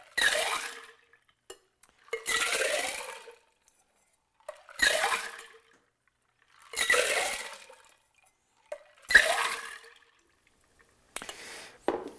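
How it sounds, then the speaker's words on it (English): Red Snapper cocktail rolled back and forth between shaker tins packed with ice, giving five loud, separate bursts of sloshing ice and liquid, each lasting about a second, spaced by short silences. "And I'm just rolling it back and forth"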